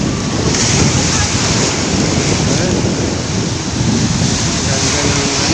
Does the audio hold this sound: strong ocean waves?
yes